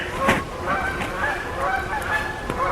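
Wild geese honk repeatedly in a loose, overlapping chorus, some calls near and loud, others farther off, outdoors on a freezing winter day in the woods.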